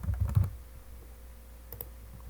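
Computer keyboard typing: a quick burst of several close keystrokes at the start, then quiet, then a couple more faint taps near the end.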